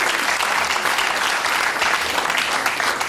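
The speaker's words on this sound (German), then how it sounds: "Ja, da klatscht die Minderheit" A theater audience at a German cabaret show applauds, loud, dense clapping sustained evenly throughout with no talk.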